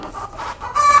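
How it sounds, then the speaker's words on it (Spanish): A rooster crows once, loud and close, in a brief call that rises at the end, with no talk over it. "Ve, pártate ese gallo ahí."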